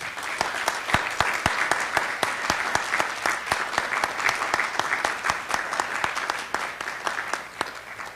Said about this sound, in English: Ladies and gentlemen, a round of applause for our distinguished judges.